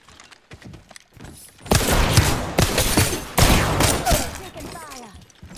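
Gunfire in the Apex Legends video game: scattered shots build into loud, sustained bursts of rapid fire and impacts, with a voice speaking now and then over the fighting.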